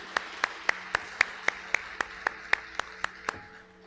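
Inside a church, a congregation claps in praise in a steady, even rhythm of about a dozen crisp claps, moderately loud, before the clapping stops.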